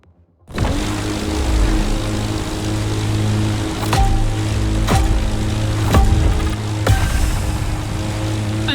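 Stunt plane in a racing game roaring on startup, its propeller engine a loud steady drone with rising and falling pitch, punctuated by a few sharp clicks.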